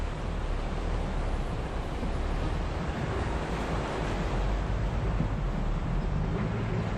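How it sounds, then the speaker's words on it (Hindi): Mountain streams fed by melting glaciers pour into the Kunhar River along the Naran road, a constant loud rushing of water with wind-like noise throughout and no voices. "ये चश्मे दरिया कुनहार में गिर रहे हैं।"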